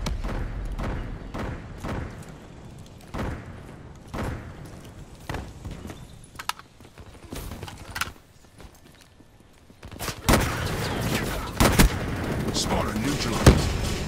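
XPR-50 semi-automatic sniper rifle fire in a video game: a series of spaced, punchy shots with thudding low ends, then louder overlapping gunfire and impacts toward the end.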